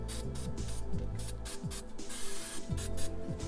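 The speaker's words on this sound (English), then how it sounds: "then covered it with undercoating spray" Undercoating is sprayed onto freshly drilled, painted metal on a Jeep Wrangler JK in a series of hissing bursts of varying length, with low tonal background sounds underneath.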